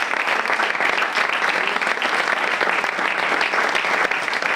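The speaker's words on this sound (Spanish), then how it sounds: "Un aplauso." Audience applause fills a library during a storytelling event, a dense, steady clapping that holds at full strength for several seconds with no voices on top.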